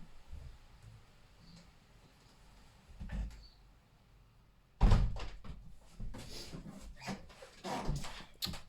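A window being shut indoors, with a loud thump and rattle of the frame and handle after some quieter shuffling, followed by scattered knocks and clatter, heard alone.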